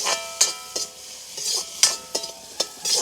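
Cashews frying in hot oil in a village kitchen pan, with a steady sizzle broken by about eight sharp scraping clinks of a spoon stirring against the metal, close and loud, with no talking.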